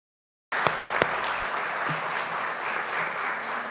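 Church congregation applauding veterans during a November worship service; sustained applause after a couple of sharp early claps from nearby hands, holding steady to the end.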